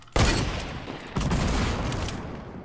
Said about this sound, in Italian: Mi stanno sparando a me